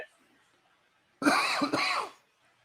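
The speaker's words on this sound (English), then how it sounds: "Damn, smoker's cough." A smoker's cough: two harsh, rasping coughs in quick succession, fairly close, after a quiet pause, with no talking.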